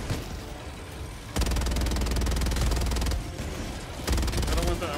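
Machine gun covering fire in the Helldivers 2 video game, with dense rapid bursts close and loud that stop briefly and resume, over a constant roar of battle noise.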